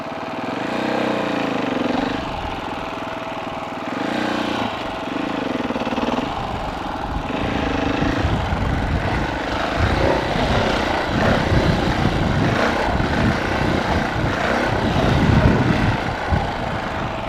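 A Husqvarna FE 501 dirt bike ridden around Warner Valley, its engine a close, continuous throbbing drone that rises and roughens as the rider goes on, loud and unbroken with no talk.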